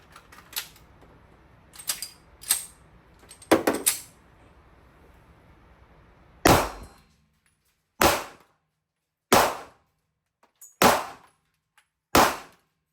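Sharp gunshots at an interactive bowling pin target game, several quick reports early then five loud, evenly spaced shots ringing out alone with short decays.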